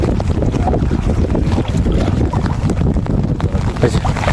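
Strong wind buffets the microphone amid a rushing, water-churning roar of monsoon floodwater with waves, current and rain, loud and continuous, with voices faintly mixed in.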